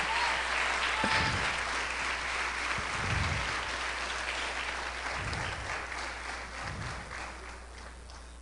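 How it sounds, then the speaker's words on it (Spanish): A church congregation applauds, a steady wash of clapping filling the room at moderate loudness, with faint low thumps from the sound system underneath. "Denle una ofrenda de palmas al Señor."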